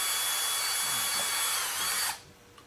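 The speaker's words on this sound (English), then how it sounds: "So I'm just going to pre-drill a few of these." A power drill bores pilot holes into the ties of O scale flex model railroad track, whining at a steady pitch for about two seconds before cutting off abruptly.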